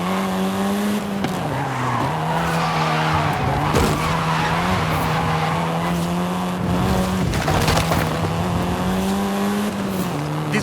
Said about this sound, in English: This version is the Volkswagen Golf R,